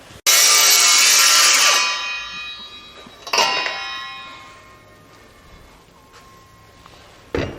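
Saw cutting through a wooden board to make a straight-edge track saw guide, starting with a loud sustained ringing bite that fades into a quieter second pass and a sharp clack at the end.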